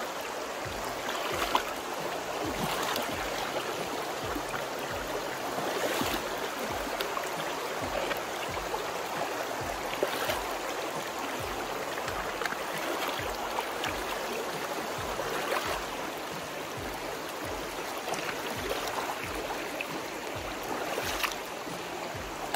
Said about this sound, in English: And here is our river crossing. Well, creek fording.